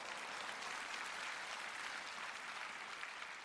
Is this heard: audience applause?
yes